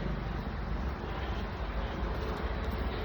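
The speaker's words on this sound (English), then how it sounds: "I'm seeing the helicopter, hearing the helicopter" A helicopter flying overhead makes a continuous, muffled broadband roar that stays steady throughout, heard from a distance outdoors.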